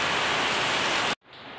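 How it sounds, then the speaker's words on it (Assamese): Rain falls steadily as a dense, even rushing hiss, loud and close, then breaks off abruptly and returns fainter, with no talking. "বৰষুণ পৰি আছে"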